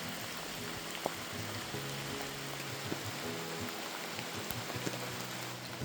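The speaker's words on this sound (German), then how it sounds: "und es regnet ganz schön doll." Steady heavy rain falls outdoors on Colombia's Trampolín de la Muerte road, with occasional louder drops standing out from a dense, continuous patter close by and no talking.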